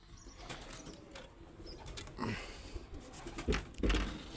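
Pigeons released by hand take off in a group, a burst of wing flapping rising toward the end over a busy outdoor background.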